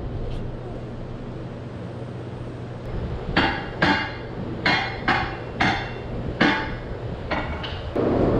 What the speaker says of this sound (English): We're hitting that 2x under the wheel right now, so I had to hammer them out